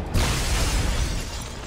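A bomb goes off in Dead Space 2 with a sudden loud, close blast that breaks into a long roaring wash of debris, slowly thinning over under two seconds.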